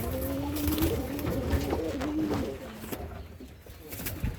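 A male pigeon with feathered feet, red colouring and a white tail coos close by in repeated soft throaty rolls, with someone talking over it at times.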